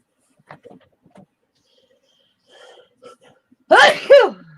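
A single sharp human sneeze close by, preceded by faint scattered rustles and quiet background sounds in an indoor craft room.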